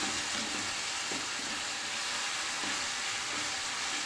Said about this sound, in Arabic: هاخدها تشويحة بسيطة خالص معاها